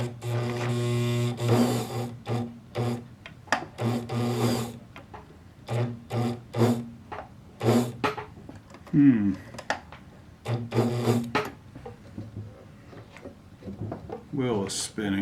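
Bernina Record 830 sewing machine running in short stitching bursts, rapid mechanical clatter starting and stopping, with a person talking between and over the runs.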